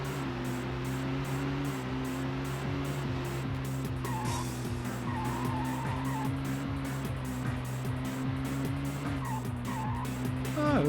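Engine drone and tire squeal from a car race in the PS1 game Speed Machines, a constant buzzy motor tone with shifting pitch, steady and loud, with no talking.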